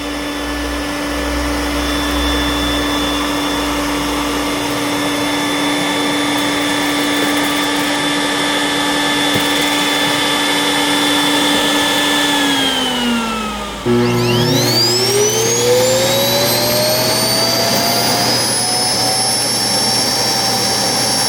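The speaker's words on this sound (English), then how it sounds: "let's at least see whether it can suck all of the contents out of its bin into the self-empty bin" An iRobot Roomba S9+ self-empty base roars steadily as it sucks the bin contents out of the robot vacuum, a loud close whine that drops in pitch, cuts briefly, then restarts and rises again.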